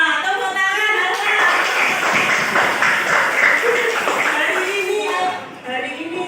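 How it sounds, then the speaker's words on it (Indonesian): Applause in a classroom, a burst of children's hand claps mixed with young voices and chatter, dense and close for several seconds before tapering off. "Tepuk tangan, Alfa."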